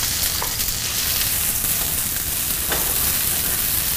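Onions stir-fried in a wok give a steady, close sizzle with occasional scraping stirs, no talk over them.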